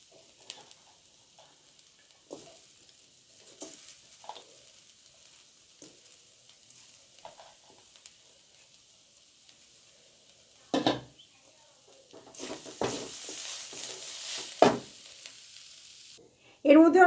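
Potato mash being stirred into chow mein noodles in a frying pan, mostly quiet scraping with occasional soft sizzle bursts, then a louder stretch of stirring and frying near the end.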